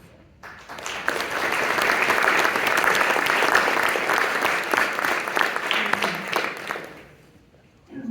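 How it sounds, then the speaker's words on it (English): Audience applause for students representing the armed forces at a school debate event, a broad wash of clapping that swells in, holds steady for several seconds and then fades out near the end. "Would the students representing the armed forces please stand one more time for your applause."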